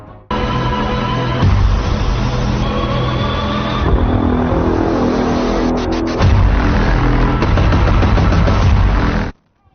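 Rapid gunfire in a town street, heard as a loud, dense burst of shots fired round after round, continuing for several seconds with no talk.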